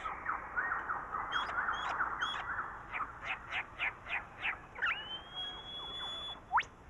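A lyrebird, an Australian mimic, sings a varied run of mimicked calls: rapid trills, a series of rhythmic chirps, a drawn-out whistle and a sharp rising note, with no talking.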